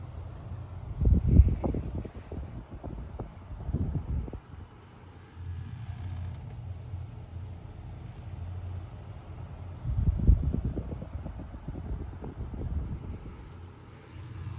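Galaxy 12-inch oscillating fan, model 2150 with a riveted motor, running on medium speed: a steady low whooshing hum with bursts of gusty rumble against the microphone, close and moderately loud, no talk.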